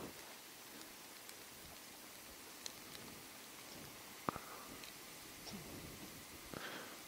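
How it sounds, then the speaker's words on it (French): Rain falls at a campsite as a faint, even hiss, with a few sharper drop taps standing out now and then; no voices. "Oh, il pleut bien là."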